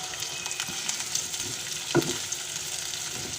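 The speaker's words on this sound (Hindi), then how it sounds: "तो ये प्याज हमने काटी है वो इसमें डालेंगे तेल के अंदर। इसको अच्छी तरीके से मिक्स करते हैं।" Chopped onions sizzle steadily in hot oil for a green chilli and onion salan, a dense continuous frying hiss with a brief clatter of stirring near the middle, close and moderately loud with no talk.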